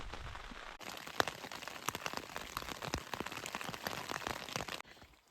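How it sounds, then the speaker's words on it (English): Rain falling at a lakeshore camp during a wilderness canoe trip, a soft steady patter broken by sharper nearby drops tapping on a tarp or gear, with quieter moments at the start and end. "And it started to rain again."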